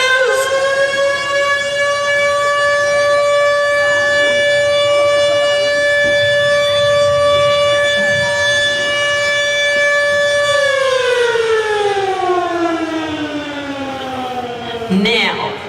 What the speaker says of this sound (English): They said they would sound the siren.